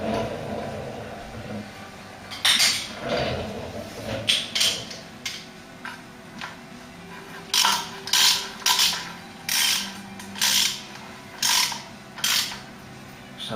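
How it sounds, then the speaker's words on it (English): A socket wrench ratchets on a nut on a Ford Cortina under restoration, giving a series of sharp, close clicking bursts in an irregular rhythm with short pauses between pulls. "Let's get a socket on that, nip it up"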